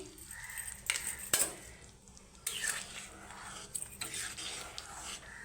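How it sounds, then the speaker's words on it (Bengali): A spoon stirs and scrapes chana dal with kasuri methi and roasted ground coriander in a pan, with repeated metallic clinks and soft wet squelches over steady cooking hiss. "এটা ভালো করে নাড়ি চাড়িয়ে নেবো"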